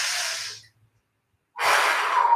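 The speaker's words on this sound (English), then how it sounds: "Big breath in, try to blow out your candles." A strong breath out fades, a silent pause, then a long forceful puff of air, as if blowing out pretend birthday candles, close to the mic.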